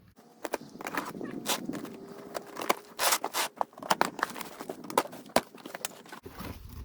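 Cardboard packaging for a bike rack being cut and pulled open, a close series of irregular sharp snips, scrapes and rustling crackles with louder bursts in the middle, then a brief pause and a low rumble.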